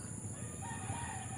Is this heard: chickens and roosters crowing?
yes